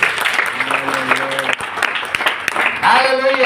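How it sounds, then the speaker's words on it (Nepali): A church congregation at a Christmas worship service claps together, dense applause filling the moment, with a preacher's voice over it and some musical tones near the end. "सबैले ताली बजाउनुहोस् त एकचोटि"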